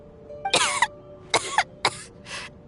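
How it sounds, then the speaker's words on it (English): Tonya, a character in Genshin Impact, coughs in four separate bursts, each a rough, breathy hack spaced about half a second to a second apart. The coughs are close and fairly loud, set over a faint steady background hum. "How long have you had that cough, Tonya?"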